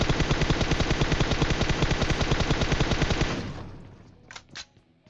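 Rapid automatic gunfire in PUBG Mobile rattles continuously for about three seconds, loud and close, then fades out, followed by a couple of faint distant shots.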